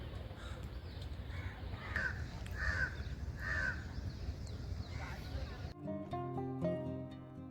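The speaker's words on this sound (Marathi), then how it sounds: "सकाळच्या प्रसन्न वातावरणात पक्ष्यांचे गूज कानी पडत आहेत." Crows caw several times beside the Barvi River near its dam on a misty winter morning, the calls moderately close over a steady outdoor hiss, before gentle music takes over for the last couple of seconds.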